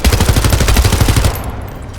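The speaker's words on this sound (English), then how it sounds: "First fire SMG" Rapid submachine-gun fire from The First Descendant, a free-to-play looter shooter: a loud, continuous automatic burst of tightly spaced shots lasting just over a second, then cutting off abruptly into quiet.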